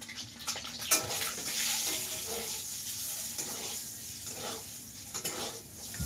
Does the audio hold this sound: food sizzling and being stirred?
yes